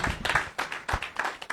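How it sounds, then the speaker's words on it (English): A small audience claps for a special guest, Dr Fanta AW, in a brief burst of close, uneven handclaps that come in loose waves. "je voudrais que vous applaudissiez pour elle avant qu'on ne commence"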